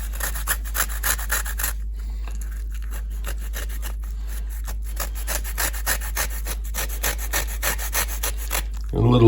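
A lemon peel zested on a grater down to the pith for a lemon pound cake, with quick rhythmic rasping strokes, close and crisp, a low hum underneath and a clatter at the end.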